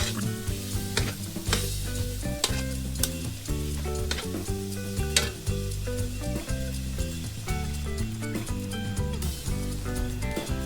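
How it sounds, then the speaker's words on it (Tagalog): Chinese chicken fried rice sautéed and stirred in a pan, a steady sizzle running throughout under loud background music, with no one speaking. "Igisa lang po natin."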